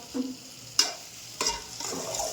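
Kathiyawadi okra curry is stirred in a pan, three sharp scraping strokes of a utensil landing over a soft, low sizzle, with no speech.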